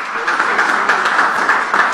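Audience applause at a live event, a steady wash of many hands clapping close and fairly loud, sustained without a break and with no voices over it.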